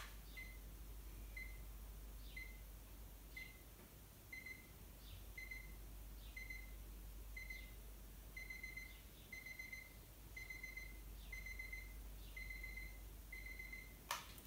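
An alarm clock gives a steady series of short, bright electronic beeps repeating in a regular rhythm over a constant low hum, moderately near, with no talk.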